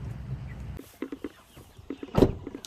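Farm chickens clucking out on a pasture, a run of short, soft clucks in an irregular rhythm after a low rumble, ending in one louder squawk close by.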